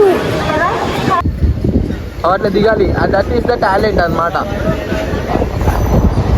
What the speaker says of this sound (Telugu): ఓ ట్రైన్ కదులుతుంది